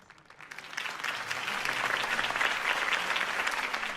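A crowd bursts into applause after a campaign speech, the clapping swelling quickly from a quiet start and holding as a dense, steady roar of hands.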